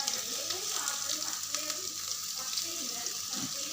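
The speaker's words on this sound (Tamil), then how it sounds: "எண்ணெய் சூடாகி வெங்காயம் போட்டாச்சு." Onions sizzle in hot oil in a home kitchen pan, a soft continuous crackle with occasional stirring and watery clinks, fairly quiet and without talk.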